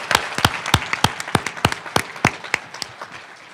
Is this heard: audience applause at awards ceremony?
yes